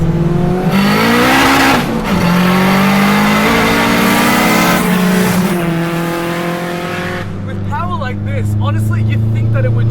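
A turbocharged K-swapped Honda Integra Type R DC2 is heard from inside while driving, its engine note loud and steady, rising in pitch through the revs, dropping at a gear change, then climbing again.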